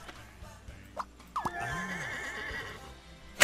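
A horse in the game Scribblenauts lets out a clear, close whinny with a wavering pitch, preceded by a few short clip-clop hoof sounds and ending in a sharp click.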